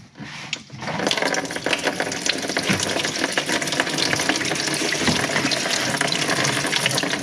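Coolant drained from a VW TDI PD engine gushes through a funnel into a bucket, a steady, close splashing pour that starts abruptly and keeps going without a break.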